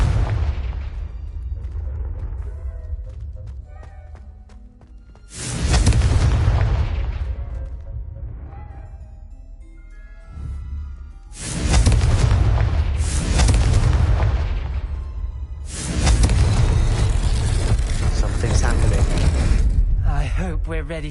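Confringo blasting spell explosions in the video game Hogwarts Legacy: several loud booming blasts in bursts, each decaying into rumbling debris, with quieter mechanical game sounds in between.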